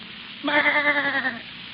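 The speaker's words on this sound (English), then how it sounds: "That sheep doesn't seem to agree with you, Dr. Radis." A single sheep bleats in a radio drama: one close, wavering, nasal bleat lasting about a second, heard alone with no talk over it.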